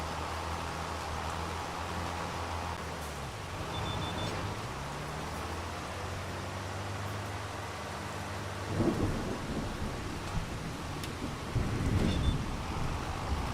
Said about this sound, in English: Rain sounds awesome.